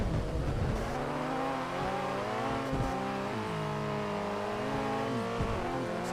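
A car engine revving hard in the Street Breed racing video game, a loud continuous whine that climbs and shifts through gears with brief dips, steady and close throughout.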